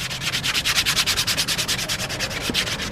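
A sanding block scrubs Bondo body filler smooth on a Ninja motorcycle part outdoors, in a fast, even run of about twenty close, rasping back-and-forth strokes.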